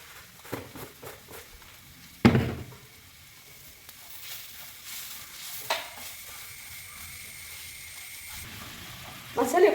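Chili and coriander powder masala sautés in a pan for mushroom masala, giving a soft continuous sizzle. A few sharp utensil clanks break through, and faint voices murmur in the background.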